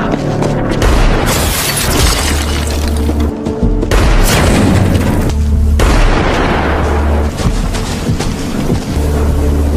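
Gunfire in The Last of Us as Joel shoots a sniper, loud heavy booming blasts with a few sharp gaps between shots, dense and echoing over continuous game noise and a low rumble.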